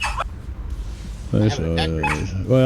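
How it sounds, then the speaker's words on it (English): A dog barks and yips in short bursts close by, with people talking over it. "I think Izzy heard the dog barking over the headphones"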